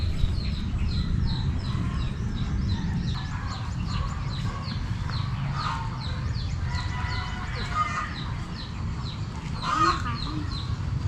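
Chickens cluck repeatedly in short, rhythmic bursts over a rumbling outdoor background, with a few louder squawks near the end, moderately close.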